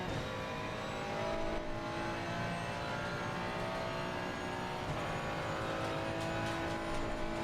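A race car in Assetto Corsa Competizione racing against a McLaren on worn tyres, a steady engine drone with shifting revs and faint tyre noise, fairly quiet and without voices.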